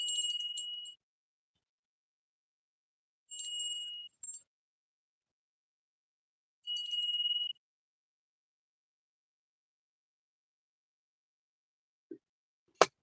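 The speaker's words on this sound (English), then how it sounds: "and we're gonna ring the bell" A bell rung three times with clear, bright metallic rings spaced a few seconds apart, each decaying quickly into silence, close and alone, followed by a couple of faint knocks near the end.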